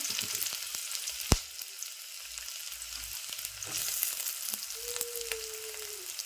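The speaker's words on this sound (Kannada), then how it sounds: "ಈಗ ನೋಡ್ರಿ ಎಣ್ಣೆ ಬಿಸಿಗೆದ ಇದಕ್ಕೆ ನಾನು ಇಲ್ಲಿ ಸಣ್ಣ ಹತ್ನಾಗಿ ಕಟ್ ಮಾಡಿದ್ದ ಉಳ್ಳಾಗಡ್ಡಿ ಹಾಕೊಳ್ಬೇಕಂದ್ರಿ" Finely chopped onions frying in hot oil, giving a steady soft sizzle with a few sharp pops and light clicks of a utensil against the pan.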